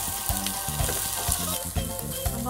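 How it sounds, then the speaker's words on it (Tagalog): Onion and garlic sizzle and fry in hot oil for a mung bean dish, a dense steady crackle with soft stirring knocks repeating at a regular rhythm, close and alone with no talking. "Add our oil. Onion, garlic."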